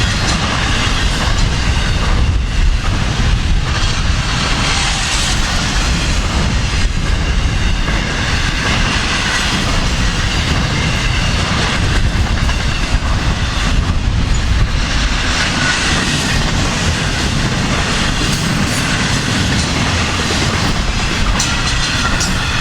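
A Norfolk Southern freight train rolls past in Central Florida, a loud, continuous rumble and rattle of wheels and cars that fills the whole stretch without letting up.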